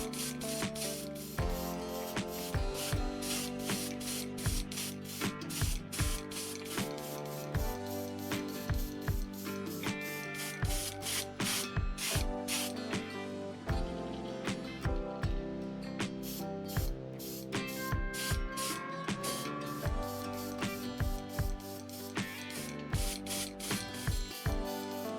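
White paint sprays onto fishing lures in a continuous hissing spray session, with short bursts and pauses set against a busy, rhythmic background bed of sound.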